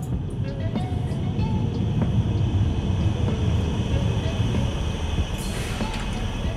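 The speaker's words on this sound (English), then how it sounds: "I need to get on the train." A metro train in the video game Underground Blossom rumbles steadily, a continuous low rolling roar with faint clacks and a brief hiss near the end, heard without talk.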